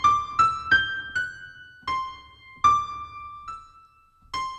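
Keyboard sounding a simple single-note melody that turns direction stepwise, each note struck cleanly and left to decay, played slowly and close with no talking.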